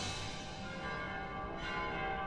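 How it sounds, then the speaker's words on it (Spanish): Bells ring in Yakuza 3 Remastered, sustained ringing tones hanging in a soft, steady wash, faint and distant, with no one speaking. "¿De dónde salen las campanas?"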